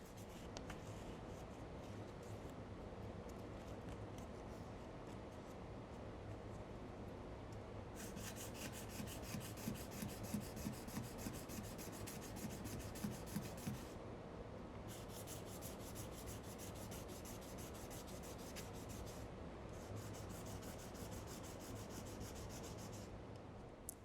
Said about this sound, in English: As you move through finer and finer grits of sandpaper, sanding at a slightly different direction can help show when you have completely removed the deeper